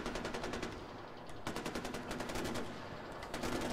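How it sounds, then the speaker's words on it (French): Rapid automatic gunfire from a firefight in the video game Far Cry 4, dense bursts of machine-gun shots rattling almost continuously at close range, with no talking over them. "Alors là, ça tire n'importe comment."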